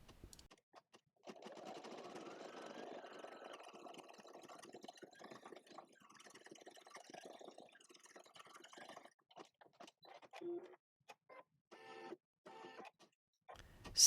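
An embroidery machine stitches a tulip design in black thread on dark fabric for a small scissors case, giving a steady mechanical whirring with fast needle chatter that stops briefly and restarts several times near the end.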